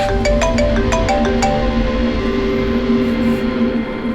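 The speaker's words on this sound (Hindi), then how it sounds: "डॉक्टर सालुंकी का फोन था" A phone rings in a TV crime drama office scene, a repeating electronic ringtone with several bright pulses early on over steady background music and room tone.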